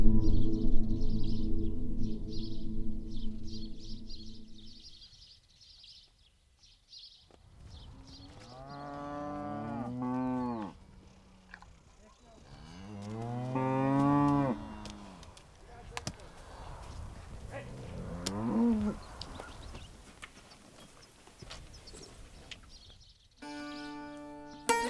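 Cattle moo loudly and close by in several long, drawn-out calls, with a man calling out between them and a rumbling, clattering background at the start.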